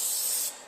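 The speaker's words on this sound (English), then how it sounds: "But basically spray this stuff down very good." A can of cleaner sprays onto Hornady reloading dies in one short, close hissing burst that cuts off abruptly, leaving faint residual hiss.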